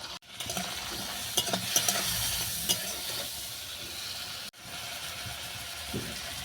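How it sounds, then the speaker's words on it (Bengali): Shrimp fry in a wok with oil, dried chili, salt and turmeric. A steady close sizzle runs under sharp stirring scrapes, with one brief break midway. "চিংড়ি মাছ ভাজা হয়ে গেছে"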